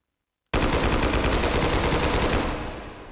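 An M2 carbine fires a sustained full-auto burst in the VR shooting game H3VR, a loud, rapid stream of shots starting abruptly after a brief silence and fading slightly toward the end.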